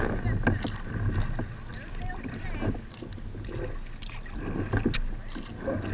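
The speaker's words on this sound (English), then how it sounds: "We're paddling downstream into the wind." Canoe or kayak paddling downstream into the wind on the Chipola River, with soft splashes and gusty wind noise on the microphone, voices murmuring over it.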